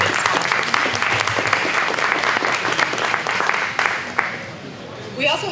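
A press event audience gives sustained applause for the sponsors of Manufacturing Day 2015. The dense clapping holds steady before thinning out, and a voice is briefly heard at the very end.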